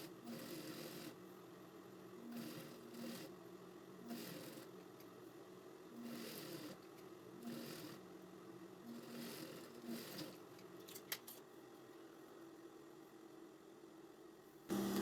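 A sewing machine hums through repeated stitching runs, sewing a seam along the edge of a fabric panel. The motor whirs in steady bursts with brief pauses between them, close up and fairly quiet, with no talking.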